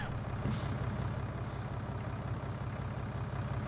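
A tractor engine idles in the game Farming Simulator 2019, a low steady rumble that holds evenly at moderate level with no talking over it.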